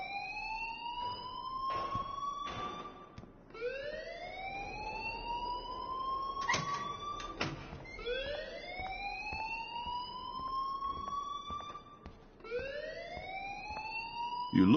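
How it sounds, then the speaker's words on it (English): A video game alarm wails in repeated rising sweeps, each climbing tone lasting a few seconds and cycling again and again, loud and continuous with no voices over it. "please turn off that alarm since that's your job"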